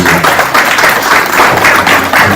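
A brief burst of audience clapping at a FinTech cybersecurity and fraud summit, dense and fairly loud throughout its couple of seconds, with a voice faintly present beneath the claps.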